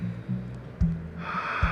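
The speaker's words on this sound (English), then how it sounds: "Inhale through your nose." A slow, soft inhale through the nose during a breathing exercise rises as a gentle airy hiss partway through, over a low steady background tone.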